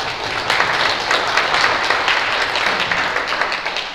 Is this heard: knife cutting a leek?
no